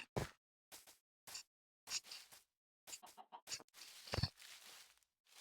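A chicken clucks in the video game Minecraft, in a series of short, quiet clucks broken by brief pauses. No voices are heard.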